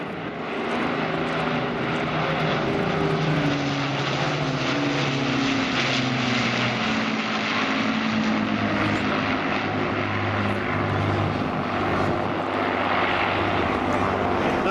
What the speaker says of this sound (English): let's shut up and just listen to the sound of the Lancasters